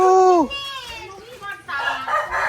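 Chickens in the rain during a strong storm in Laos: a loud, close rooster-like call with a falling cluck opens, followed by softer fowl sounds, wet background noise and someone talking.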